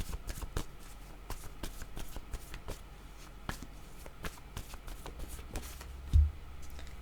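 Playing cards are shuffled in a steady run of crisp riffling clicks and snaps, close and quiet, with a soft thump near the end and no talk.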